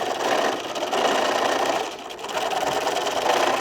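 A home sewing machine runs steadily while stitching a fabric zipper case, a loud close continuous whir with one short slowdown midway.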